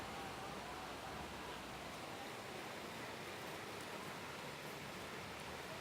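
A waterfall in Brazil roars as a steady, dense rush of water, heard close from its bank with no voices.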